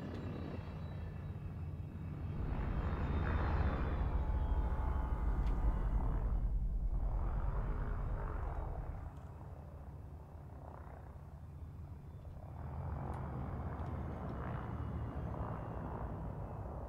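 A spaceship sets down in Elite: Dangerous, with a steady low engine rumble and whine that swells and eases over the landing.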